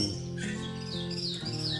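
A caged songbird sings a short run of clear whistled phrases with rising and falling notes, close and steady, with no voices.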